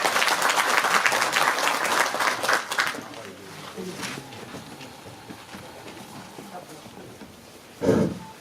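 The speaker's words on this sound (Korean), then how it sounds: "큰 박수로 맞이하겠습니다." Audience applause greets a Gachon University professor stepping up to give congratulatory remarks at a book concert for a preliminary candidate: dense clapping for about three seconds, then thinning into scattered claps and murmur, with a brief louder burst near the end.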